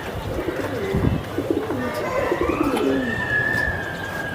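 Pigeons coo softly in low, throaty rolls against a steady outdoor background hum, with faint voices in the distance.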